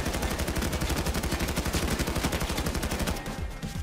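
Rapid automatic gunfire in the heist shooter Payday 2, a dense, loud, continuous stream of shots for about three seconds before it thins out slightly at the end.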